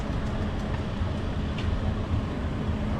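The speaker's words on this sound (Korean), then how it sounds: "트램 이렇게 다니네" A tram rolls along its street track in Istanbul, a steady, close rumble and rattle of wheels that stays even throughout, with no voices over it.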